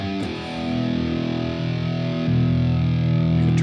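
A sustained distorted electric guitar chord rings through a Spark 40 practice amp, buzzy and steady, with a slight change in tone near the end.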